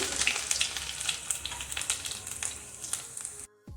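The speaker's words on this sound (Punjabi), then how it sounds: "ਇੱਥੇ ਲਿਆ ਸੀ ਅਦਰਕ ਤੇ ਲਸਣ ਤੇ ਇਹਨਾਂ ਨੂੰ ਵੀ ਅਸੀਂ ਤੇਲ ਦੇ ਵਿੱਚ ਭੁੰਨ ਲਵਾਂਗੇ" Ginger and garlic sizzle in hot oil with cumin, a steady close frying hiss broken by light stirring scrapes, then an abrupt drop near the end.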